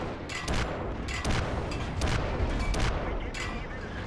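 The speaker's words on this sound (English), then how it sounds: "Let's shoot at this guy a few times." Tank cannon fire in World of Tanks from a light gun of about 45 mm, several heavy booming shots spaced through the clip over a constant rumbling battle background, no talk.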